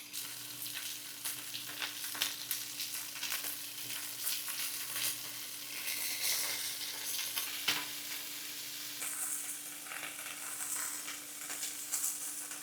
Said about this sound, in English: we just want to get our meatballs browned